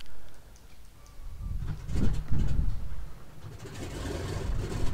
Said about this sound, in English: So let's start the left engine first.